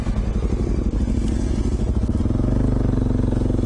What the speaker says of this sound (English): The only problem with the big bike, the KTM 1090, she's a bloody nice bike and it's very, very capable.